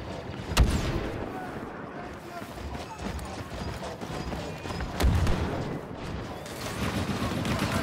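Star Wars Battlefront 2 battle with sharp blasts and gunfire cracking over a continuous rumbling battlefield din, two especially loud impacts standing out, as voices call out during play.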